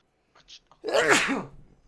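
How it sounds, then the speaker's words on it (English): A single loud sneeze close to the mic, preceded by a few short breathy intakes, then fading into quiet. "I gotta sneeze"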